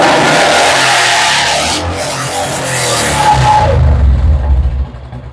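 A 2015 Royal Enfield Electra motorcycle in full working condition idles and revs loudly up close, its engine note rising and falling steadily and then swelling into a heavier low rumble near the end, with no voices.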